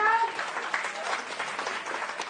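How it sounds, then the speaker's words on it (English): Audience applauding a school group at an outreach program on India's first solar mission, brief dense clapping from a crowd in a hall, loud and close, with an announcer's voice over the start. "Can we have a huge round of applause for DPS Chandanagar?"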